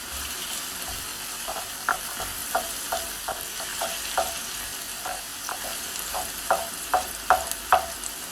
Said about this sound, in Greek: Μόλις μαλακώσει το κρεμμύδι θα προσθέσουμε το σκόρδο. Θα σοτάρουμε για 1 λεπτό.